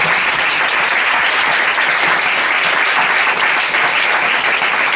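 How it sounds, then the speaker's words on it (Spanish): Loud, sustained applause from a large audience at the close of a talk, dense clapping that holds steady from start to finish. "Pido un fuerte aplauso para los aquí presentes."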